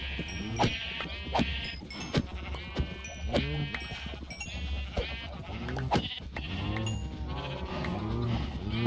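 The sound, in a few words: sheep bleating in Minecraft video game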